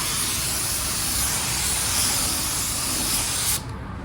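Spray gun laying a first coat of metallic car paint, a steady close hiss held unbroken for about three and a half seconds before cutting off.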